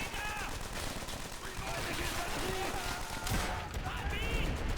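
Gunfire and machine-gun bursts in Call of Duty: World at War, a World War II shooter, loud and dense under a steady battle din, with faint distorted voice-like tones woven through.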